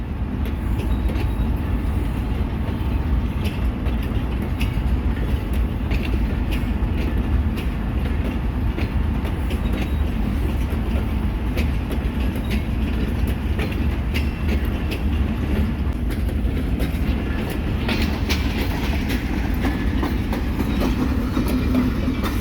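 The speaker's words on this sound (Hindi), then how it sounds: "टू डाउन खैबर मेल बाहर यार्ड में मौजूद है" The Khyber Mail train waits in a railway yard, giving off a steady low rumble of idling rolling stock with faint clicks and clanks throughout, continuous and moderately close, with no talking.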